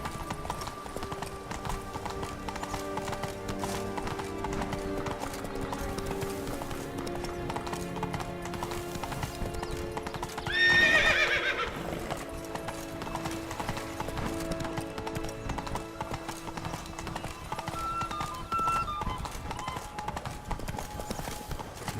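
Hoofbeats of Roach, a horse in The Witcher 3, clip-clop steadily at a gallop for the whole stretch, with a short loud neigh near the middle over a continuous game music and ambience bed.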